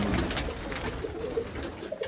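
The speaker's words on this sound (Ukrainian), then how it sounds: "це голуби" Mykolaiv pigeons in a loft in Kamianske coo softly and repeatedly, a low murmuring burble close by that carries on steadily under faint background rustle.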